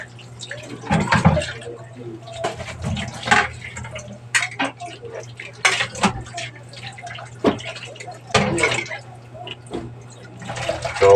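Water runs and splashes in a kitchen while dishes are washed, coming in irregular gushes and spatters over a low steady hum, close by, with a voice speaking at times.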